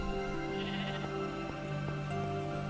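Sheep in the Minecraft video game bleat several times at moderate volume over a steady tonal game music bed, with short wavering calls spread across the stretch.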